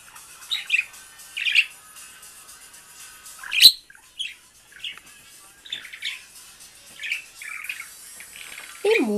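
Two pet budgerigars chirping and warbling indoors with music playing, a string of short scattered tweets and squawks, one louder call midway and a rising trill at the end, fairly soft and close.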